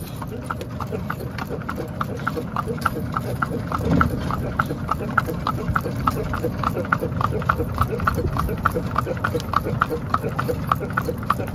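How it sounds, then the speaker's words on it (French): A horse walks at a resort in Holguin, Cuba, its hooves clip-clopping in a steady, even rhythm close by, with people talking in the background. "Ça s'appelle le cheval."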